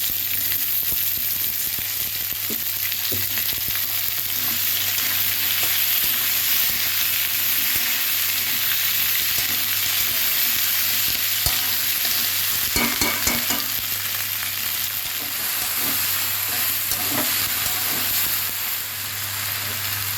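Potatoes, onions and okra fry together in a pan after a tempering of nigella seeds and green chilli, producing a loud, dense, unbroken sizzle close up with brief stirring scrapes.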